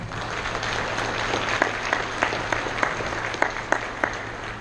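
A Masonic lodge audience at a Lodge of Sorrow ceremony applauds steadily and fairly loudly, a continuous wash of clapping with a few sharper individual claps standing out.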